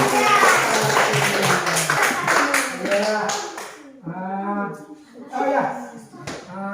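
A third-grade class of children claps hands together in a classroom, a dense burst of quick claps for about four seconds under mixed young voices, then the clapping stops and children's voices chant and sing.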